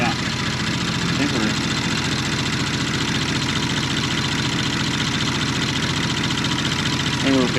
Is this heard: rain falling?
no